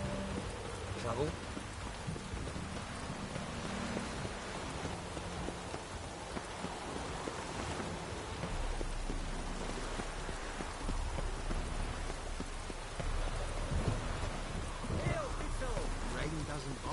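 Steady rainfall in The Witcher 3, a continuous soft patter and hiss of drops on surfaces, running beneath people talking throughout.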